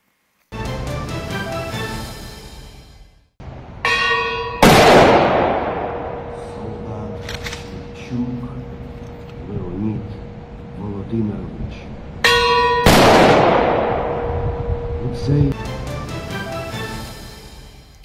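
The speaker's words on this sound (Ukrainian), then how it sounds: "поклав квіти до підніжжя пам'ятного дзвону, який пробив 50 разів" A memorial bell tolls at a ceremony honoring fallen Ukrainian soldiers, with two heavy, resonant strikes that ring out and slowly decay over a low background murmur.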